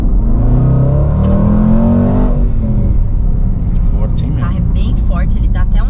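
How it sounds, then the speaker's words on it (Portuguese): A Jaguar F-PACE SVR in dynamic mode gives a deep engine surge that rises in pitch for a couple of seconds, then settles into a lower rumble. A person talks over the rumble in the second half. "quando você quer dirigir no modo dinâmico, você já aciona aqui o John Lennon. Tá bom. E dá uma aceleradinha."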